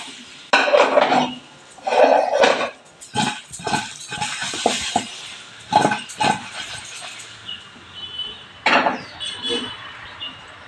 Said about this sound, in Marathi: असं बघा, शक्यतो ही अशीच परतून घ्यायची.